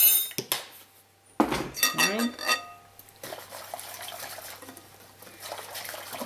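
A metal tablespoon scooping oat bran for rye bread makes a couple of sharp clinks against a bowl or container, then softer scraping and rustling. Someone talks nearby.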